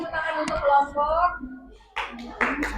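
A classroom of students breaks into a short burst of clapping for a student group after a teacher's voice speaks, the claps close and scattered.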